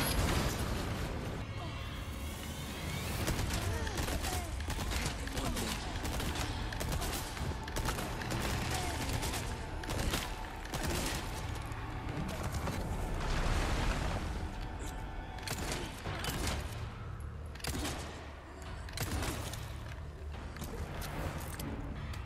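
Cannon fire in the video game Resident Evil 4 Remake: dense, repeated booms and gunfire-like blasts rumble throughout, mixed with game effects, while a player talks over the action.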